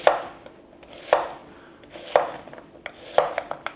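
A knife slices quartered onions on a cutting board in four evenly spaced, crisp chops about a second apart, with a few lighter taps between them.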